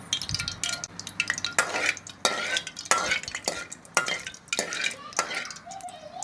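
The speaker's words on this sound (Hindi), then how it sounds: "अब कढ़ाई में हमने घी डालकर इसको गर्म कर लिया है। दालें घी में बनती हैं, इसलिए हमने 1 कप घी डालकर इसको गर्म कर लिया है। अब इसमें लौंग डाल लेंगे।" Whole cloves dropped into a cup of hot ghee in a kadai wok while cooking dhaba-style daal mash, giving a steady crackling sizzle with repeated stirring scrapes and clinks of a spoon against the pan, close and moderately loud.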